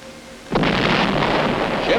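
Sudden heavy boom of naval ships' guns firing point blank at an island, followed by a loud rumbling roar that sustains to the end.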